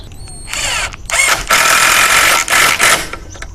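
An IMAX IMIS-12v 12-volt impact driver with a magnetic screwdriver bit drives a screw into wood, giving three loud, close whirring, hammering bursts separated by brief pauses.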